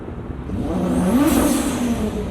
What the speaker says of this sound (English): Blower valve sounds mad.